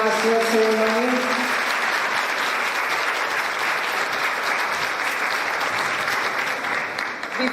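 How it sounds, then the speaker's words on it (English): A crowd claps steadily in sustained applause, a dense wash of hand claps filling the room and tapering slightly at the end. "deserves a big round of applause"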